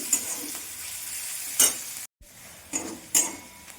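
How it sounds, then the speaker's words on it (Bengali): Soft, steady sizzling of onions frying in a pan until reddish, with a few louder scraping stirs and a brief silent gap partway through. "পেঁয়াজটা আমি ভেজে নেব একটু লাল লাল করে।"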